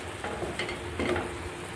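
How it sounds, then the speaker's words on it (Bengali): Masala is sautéed in oil in the slow, thorough style used for meat masala, as the base for an egg and chickpea dal curry. A steady close sizzle runs throughout, with a couple of soft scraping stir strokes and no talking. "কষিয়ে নিচ্ছি, খুব সুন্দর করে কষাতে হবে, যেমন মাংসের মশলা কষান ঠিক সেই স্টাইলে এটা কষাতে হবে।"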